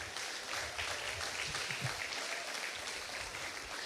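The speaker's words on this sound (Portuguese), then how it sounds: "Você pode aplaudir ao Senhor por isso," A church congregation applauding during a Portuguese-language worship service, steady mid-distance clapping sustained for several seconds with no voices over it.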